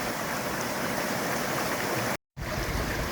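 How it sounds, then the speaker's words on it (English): Small waterfall spilling into a pool in a Tuscan valley, giving a steady, close, even rush of falling water with no voices, cut by a short gap of silence near the end. "Up above the pool area, got a nice little waterfall coming down here."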